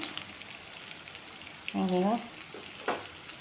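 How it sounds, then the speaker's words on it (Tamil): Baby potatoes roasting in oil in a pan give a steady, soft sizzle throughout, with a brief voice-like tonal sound partway through and a small clatter near the end. "இப்போ லேசாக பரட்டி விட்டுருவோம் நல்லா ரோஸ்ட் ஆகணும் உருளைக்கிழங்கு"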